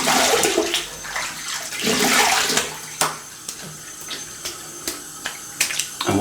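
Cold tap water runs and splashes in bursts at close range as a face is wetted before a shave with a Yaqi razor, the flow surging and dropping with several sharp hand splashes and no talk.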